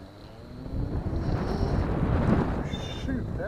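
An Evoke Urban S electric motorcycle is ridden with a rushing wind roar that builds and holds, and a thin high electric whine rises faintly over it near the end.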